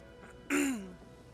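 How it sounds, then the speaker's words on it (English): One short, sharp throat clear rises abruptly and trails off in a rough, strained rasp, close and alone against quiet background hiss. "I'm here constantly clearing my throat"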